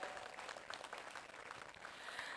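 Faint audience applause at a university graduation ceremony, Amritapuri campus of Amrita Vishwa Vidyapeetham, a soft steady patter of many hands clapping that sounds distant and holds evenly throughout.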